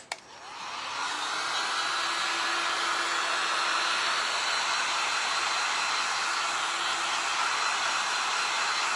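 A hair dryer switches on with a click and runs as a steady, close, even whooshing roar with a faint motor whine, drying craft work with no talk.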